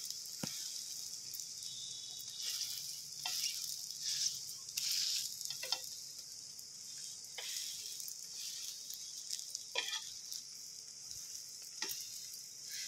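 Egg dosa cooking in oil on a hot pan gives a steady, close sizzle and crackle throughout, punctuated by a few sharp scraping or clicking touches.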